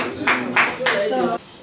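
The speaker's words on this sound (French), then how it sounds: "je vous demande de les applaudir, s'il vous plaît" A few sharp, evenly spaced claps ring out from the audience at a PPRD party anniversary gathering and diaspora debate, brief and close, fading into the room.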